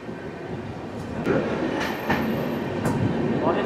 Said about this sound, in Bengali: আর আমাদের ট্রেন ছেড়ে যাচ্ছে ভদ্রক স্টেশন